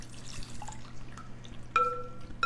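Thin egg custard filling is poured into a pie shell, a soft steady liquid trickle with light dripping and a faint whistling tone near the end, close by and quiet.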